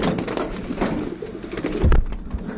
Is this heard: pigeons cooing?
yes